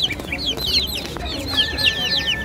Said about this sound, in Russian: а здесь молодые петушки